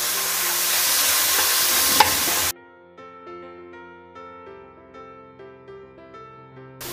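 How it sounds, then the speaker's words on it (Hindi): Grated onion frying in a pan for a mutton malai, a loud, close hiss that cuts off abruptly after a couple of seconds, leaving quiet humming background. "जब तक मेरा ऑनियन भून रहा है"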